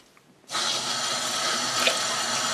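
Tap water runs steadily into a sink while cooked beets are rinsed and rubbed to slip their skins, a loud continuous splashing rush that starts abruptly and continues alone.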